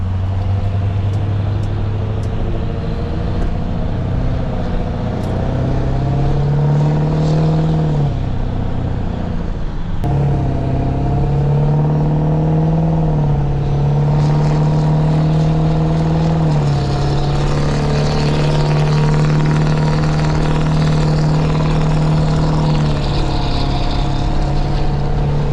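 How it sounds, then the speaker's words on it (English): A 6.0 Powerstroke diesel truck with a non-VGT turbo and a FASS lift pump, its exhaust droning steadily as the engine rises and falls through revs during a drive, loud and continuous with no talk. "I'll do a little exhaust clip here."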